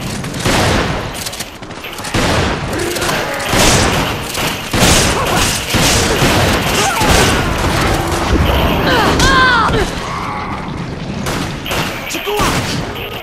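Gunfire in the co-op shooter Resident Evil 5, sustained bursts and booms rolling almost continuously, loud and dense, mixed with game effects.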